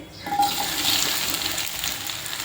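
Okra, washed and cut into long pieces, fries in hot oil, giving a steady, close hiss of sizzling that holds evenly throughout with no voices.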